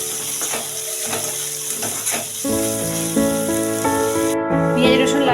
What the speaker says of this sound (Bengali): পেঁয়াজ কুচি, পেঁয়াজ আর রসুনটা লাল লাল করে ভেজে নেব।